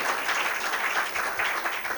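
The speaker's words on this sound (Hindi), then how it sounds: "एक बार जोरदार तालियां उनके नाम पर बजा दीजिए।" Loud, continuous applause from the audience at a Hindi poetry gathering, welcoming poet Aman Akshar, with many hands clapping in a dense, even wash.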